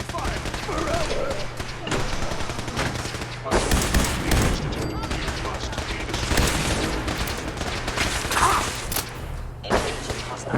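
Rapid bursts of gunfire and heavy thuds from a Fallout 4 firefight against Brotherhood of Steel foes fill the whole stretch, loud and sustained, with combat voices shouting over the shooting.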